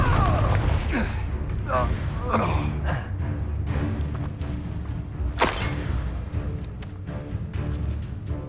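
Confringo blasting spell from Hogwarts Legacy, cast repeatedly in combat, giving booming explosive bursts mixed with whooshing spell effects, grunts and gasps, with a sharp loud blast partway through.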